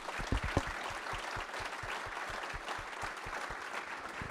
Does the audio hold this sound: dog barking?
no